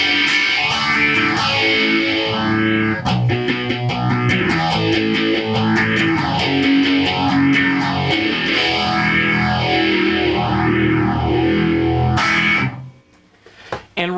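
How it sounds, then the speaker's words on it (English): An electric guitar runs through a phaser into a distortion pedal, playing loud, driven chords and riffs with a slow, sweeping phase swirl, then cuts off abruptly near the end. "let's go ahead and reverse the order. Now we got phaser into distortion."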